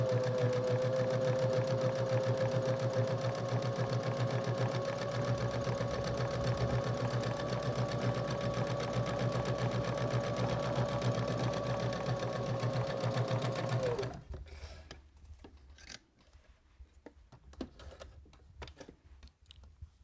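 A sewing machine runs in one long steady burst stitching a luggage tag strap, loud and continuous with a high whine, then stops abruptly and gives way to faint clicks and handling noises.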